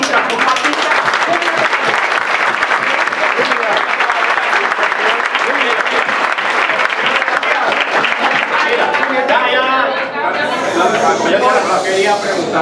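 Workers at a labor assembly applaud together in dense, continuous clapping that runs the whole time, with voices talking over and through the crowd noise.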